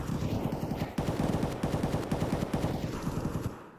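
Rapid automatic gunfire in Escape from Tarkov rattles in fast repeated bursts at fairly close range, a dense, steady stream of shots with brief gaps before fading out at the end.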